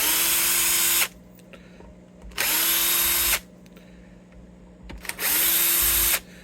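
A Bosch power drill unscrewing the pickups from a Gibson Les Paul guitar, running in three loud, high-pitched whirring bursts of about a second each with short pauses between, close up and without talk.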